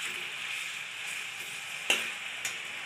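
Chopped chillies hit a pan of frying capsicum, onion and tomato for a hostel-made chilli chicken, giving a brief, even sizzle broken by a couple of sharp clicks.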